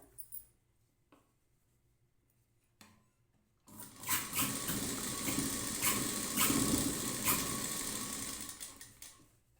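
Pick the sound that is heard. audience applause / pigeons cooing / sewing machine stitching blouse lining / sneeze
sewing machine stitching blouse lining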